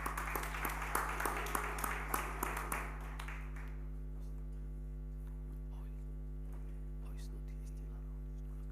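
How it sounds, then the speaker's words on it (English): Applause from the audience at the Free State Sports Awards 2023 ceremony: steady clapping for the first three seconds or so, fading out and leaving a low electrical hum and a quiet room. "We'll give him a round of applause"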